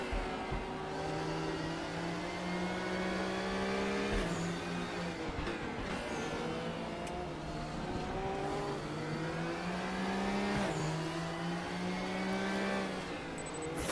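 A Silhouette Series race car at full throttle at Zandvoort in the RaceRoom racing game, its loud engine screaming and rising through the gears with repeated upshifts over a steady roar, no talking.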